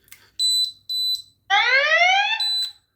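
A Yolink water leak probe sensor goes off with its alarm: short high electronic beeps, then a longer rising warble, then another beep, loud and close with quiet gaps between.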